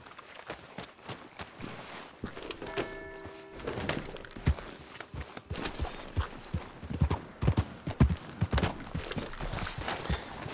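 Horse hooves clip-clop in Red Dead Redemption 2, a run of sharp, uneven knocks that build from sparse to dense and fairly close, set against game ambience with a brief tonal chime partway through.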